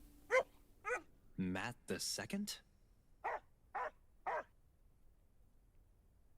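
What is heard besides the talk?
dog barking in Undawn video game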